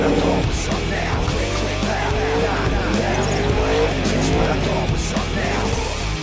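Rally car racing in the survival game Scum, with a loud engine revving and shifting pitch as tires squeal and skid through turns, continuous and close, and a voice faintly present at times.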